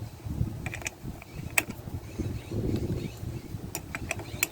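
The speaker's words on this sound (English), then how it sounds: "I'm still using the size 10 wrench." A size 10 wrench works loose the cable on a 2017 Toyota Corolla battery, giving quiet metallic clicks and short ratcheting bursts at uneven intervals, close by.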